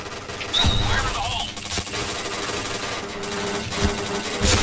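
Gunfire in the shooter game Point Blank, rapid bursts of shots crackling repeatedly across the clip, mixed with game effects while a voice talks over it.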